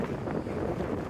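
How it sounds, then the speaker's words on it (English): Strong wind gusting around a tarp shelter at a wild camp, a steady, loud, roaring buffet close to the microphone with no pauses. "Proper windy."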